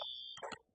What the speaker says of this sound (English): Fire alarm, fire alarm.